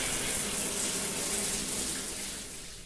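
A shower runs in the horror game Nightmare of Decay, a steady hissing spray of water that tapers off slightly toward the end, with no voices.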